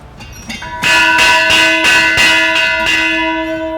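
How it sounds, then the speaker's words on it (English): A large bell rings out in repeated loud, resonant strikes, roughly six clangs at an even pace with long sustained overtones ringing between them, close and clear, no voices. "ring that bell"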